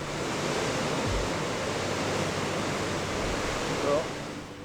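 Heavy sea surf pounds into coastal caves along a Portuguese cliff trail, a steady broad roar with deep low booms like distant thunder, close and continuous.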